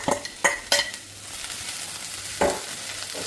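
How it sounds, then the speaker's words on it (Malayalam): Cooked dal, boiled with salt and a little turmeric, stirred into masala in a pan for parippu fry, with a few sharp scrapes and clinks of a spoon against the pan over a soft sizzle. "നല്ലവണ്ണം ഇളക്കി യോജിപ്പിക്കാം."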